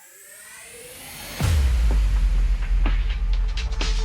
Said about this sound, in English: here I have, again, just a lot of transition effects.